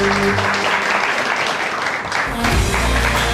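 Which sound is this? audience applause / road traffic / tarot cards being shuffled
audience applause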